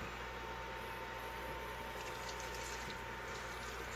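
Milk splashed from a container over cheesy mac and cheese noodles for a seafood boil dish, a steady wet pouring hiss lasting the whole few seconds with a faint low hum beneath.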